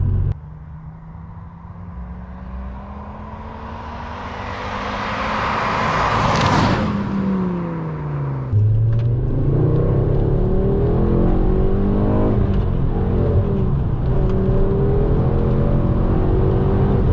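2007 Ford Focus ST MK2 hatchback with a Stage 1 tuned five-cylinder engine accelerating hard, its loud rising revs climbing, dipping at a gear change, then pulling strongly again in a steady near drone.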